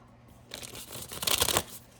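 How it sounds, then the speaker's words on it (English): Oracle cards, a deck of whiter fairy and unicorn cards, being riffled and shuffled by hand in a quiet room, one soft burst of papery flutter that builds and peaks near the end before fading. "I want to do one more good shuffle"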